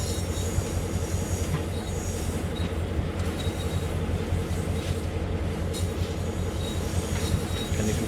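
Train in Train Sim World on the Northeast Corridor with an SW1000R switcher, a loud steady rumble of rolling coaches with recurring high wheel squeals, continuous and close with no voices.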